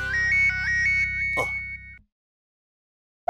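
An electronic phone ringtone plays a repeating melodic tone for about two seconds, then cuts off abruptly into silence.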